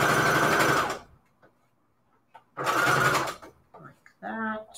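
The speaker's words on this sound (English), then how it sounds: "I just want to sew this jar." A sewing machine stitches around a paper jar embellishment for a Christmas scrapbook layout, two loud close bursts of rapid whirring with a quiet gap between, and a voice speaks briefly at the end.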